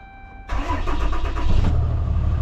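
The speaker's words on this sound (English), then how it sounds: "Let's hop in the truck, see if it fires up." A rollback tow truck's engine cranks and catches after new batteries are fitted, starting abruptly from near silence and settling into a loud, steady close idle.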